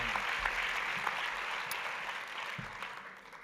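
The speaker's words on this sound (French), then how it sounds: "On va pouvoir l'applaudir bien fort." Audience applause at an award ceremony, a soft, even wash of many hands clapping from a distance throughout, with faint murmurs underneath.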